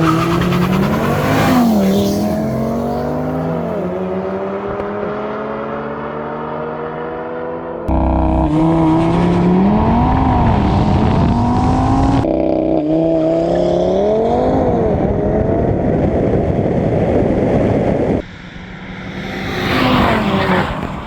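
An Audi RS3 and a Ford Focus RS MK3 launch side by side in a drag race in Slovakia. Loud engines rev and climb through the gears, with tire squeal at the start and later surges as the cars pass close.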